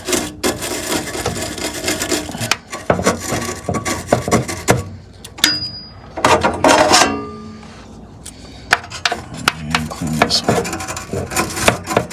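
Dry, scratchy rubbing and scraping on furnace burners being cleaned, coming in close, loud bursts with short pauses and a few sharper metallic clicks between strokes.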